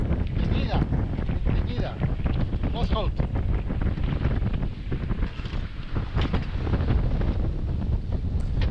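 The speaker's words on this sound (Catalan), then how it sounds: "Ara sí que estem navegant." A sailboat heading into the wind toward the Isle of Man from Bangor, loud continuous wind buffeting the microphone with rushing water underneath, steady throughout with faint voices now and then.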